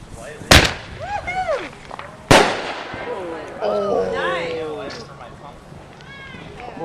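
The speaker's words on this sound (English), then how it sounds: "That's the fireworks." Fireworks at a 2011 show burst in two sharp, loud booms a couple of seconds apart, followed by fainter crackling and whistling trails, with people's voices chattering in between.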